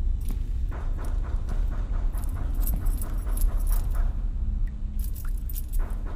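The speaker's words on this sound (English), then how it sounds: "Oh, is someone jingling the keys that we need?" Metal keys jingling in a spooky setting, bursts of bright clinking and rattling repeated on and off through several seconds, near and fairly clear over a low background rumble, with no talking.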